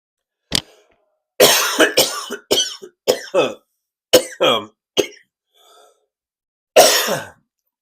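A bout of repeated close-up coughing, several harsh coughs and throat-clearing bursts spread unevenly over several seconds with short pauses between.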